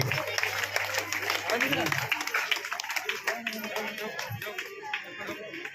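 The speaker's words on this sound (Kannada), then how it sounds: "ಸ್ವಲ್ಪ ಜೋರಾದ ಚಪ್ಪಾಳೆ" Audience clapping at a wedding ceremony celebration, a scattered burst of hand claps that thins out over several seconds while a voice talks over it.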